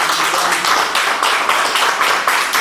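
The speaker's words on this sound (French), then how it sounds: "Donnons gloire à Dieu par des acclamations." A church congregation claps and applauds together during a worship service, a steady, dense roar of many hands with a loosely rhythmic pulse, loud and close throughout.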